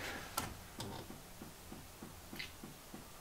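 Faint, steady clicking from a diesel heater's fuel pump in a converted school bus, repeating about twice a second, a soft mechanical tick against low background hum.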